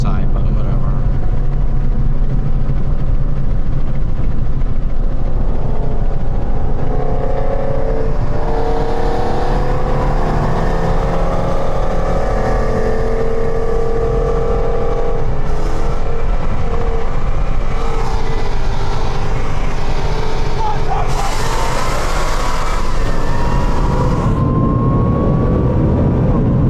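E85-fueled VMP-supercharged Shelby GT500 and a Roush Stage 3 Mustang run side by side on a street, engines roaring loudly and steadily for nearly half a minute with wind buffeting the camera; people talk over the noise.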